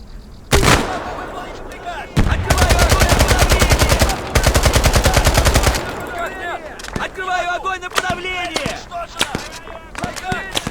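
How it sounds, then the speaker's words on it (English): Rapid automatic gunfire rattles in long loud bursts in a war video game, with sharp single shots and explosive thuds from a grenade launcher scattered afterward and a voice talking faintly between them. "Getting ready with the grenade launcher."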